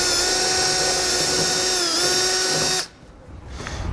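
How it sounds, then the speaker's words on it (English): A power drill with a small bit bores a pilot hole during installation of a wiring kit, making a loud, steady high-pitched whine that stops abruptly near the end, leaving a quiet room. "take a small drill bit and drill a pilot hole first"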